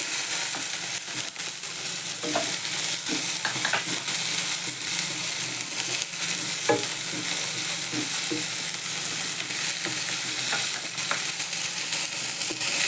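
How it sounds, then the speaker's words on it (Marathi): Sliced onion and green chillies sauté in a pan for paneer chilli, giving a loud, constant close sizzle with scattered spatula scrapes and taps throughout and no talk. "हे सगळं चांगलं परतून द्यायचं."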